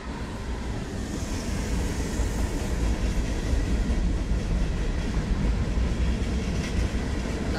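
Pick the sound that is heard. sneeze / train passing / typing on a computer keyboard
train passing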